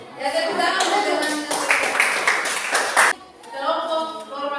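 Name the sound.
audience clapping for classmates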